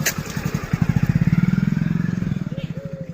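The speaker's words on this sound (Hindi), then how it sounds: "घर छुट्टी जाता है, बाइक ही लेके अपना जा रहा है," A motorcycle ridden along a road, its engine giving a steady, rapid thumping pulse that stays close and fairly loud throughout.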